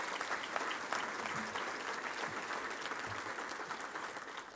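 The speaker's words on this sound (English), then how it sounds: "let's give our volunteers and our Touchdown Club staff a round of applause" A crowd at a Touchdown Club gathering applauds volunteers and club staff, steady dense clapping at even strength across the whole stretch, slowly easing toward the close.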